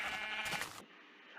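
Sheep in a blocky sandbox video game bleating once, loud and close, then the sound cuts off sharply to quieter background game ambience.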